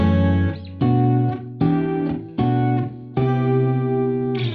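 Five-chord progression from a song, played on an effects-laden distorted electric guitar as a series of sustained chords, each struck cleanly and ringing before the next, with the final chord held longest.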